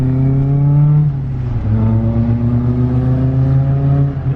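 A Honda S2000 sports car accelerates as it turns, a loud, close engine drone that holds, drops briefly when the driver shifts, then climbs steadily again, with no voices over it.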